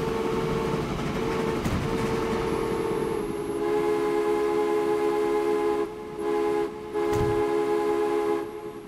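Trains running on track in the video game Transport Fever, a steady rolling rumble with sustained horn-like tones and a brief drop partway through, moderately loud with no talking.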